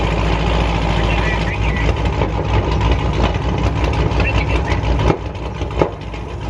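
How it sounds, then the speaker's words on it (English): A loud, steady low engine rumble runs throughout, like a heavy vehicle idling close by at a tire shop, with a couple of sharp knocks near the end. "Y'all get this loud engine, right?"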